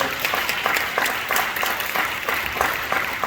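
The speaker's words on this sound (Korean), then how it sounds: "우리 어르신들 계속해서 건강하시고 편안하시도록 박수해 주시고" Church congregation applauding the elders at a Sunday worship service, a steady, moderately loud patter of many hands with no voices over it.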